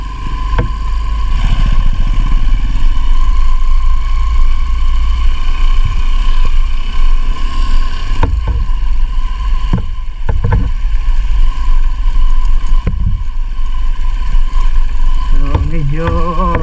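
Honda CRF motorcycle ridden off-road on a rough rural road, its engine droning loud and close with constant wind rumble, and a few sharp knocks and bumps along the way.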